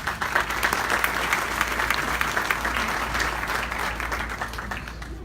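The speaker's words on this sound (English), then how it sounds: "So let's give them a round of applause" Warm audience applause at a Yemeni American association's scholarship ceremony for high school graduates, honouring the awardees' parents; many hands clap in a steady, full crackle that holds throughout and eases slightly near the end.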